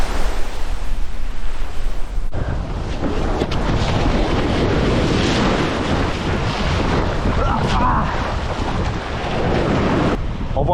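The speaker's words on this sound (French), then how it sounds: "Il y a quand même des grosses vagues, c'est un peu intimidant." Big ocean waves break and roll onto a beach in a loud, continuous roar, with heavy wind buffeting the microphone and surges of surf rising and falling.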